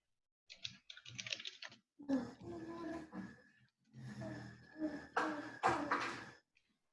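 Computer keyboard typing in quick bursts of key clicks, fairly close, running through most of the stretch at moderate level with short pauses between runs.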